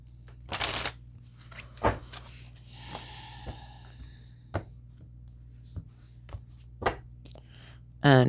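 Gilded Tarot cards being shuffled and handled, with soft riffles, slaps and brushes in short bursts spread across the stretch, fairly close and quiet, with a brief louder rustle at the end.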